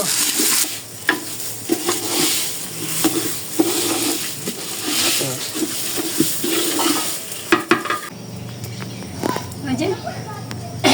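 Eggplant cooking in a pan on a small stove, with a steady hiss of frying and repeated scraping and stirring strokes, heard close, while a person talks over it.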